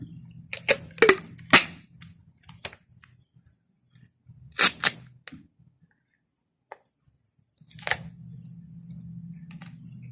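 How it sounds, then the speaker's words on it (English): Tape tears off the roll in short, sharp rips and crackles as it is wrapped around a shoe on a trail, in a few separate bursts with quiet gaps between them. "And then tape it."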